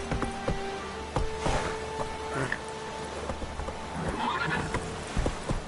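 Horse in The Witcher video game whinnying and clip-clopping at a gallop, hooves thudding steadily under a faint rain-like hiss, with scattered voices and game sounds around it.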